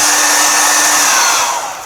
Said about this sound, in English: I'll get my hairdryer